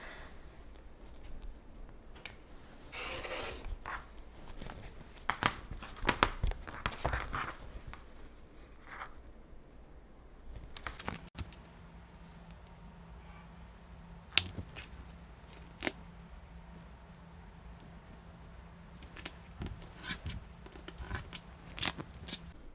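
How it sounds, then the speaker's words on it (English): Scissors snip through quilting fabric to cut star centers for a Christmas quilt block, giving scattered close crunchy cuts and rustles of cloth at a fairly low level with no talk. "Now I'm going to cut our Fabric A star centers."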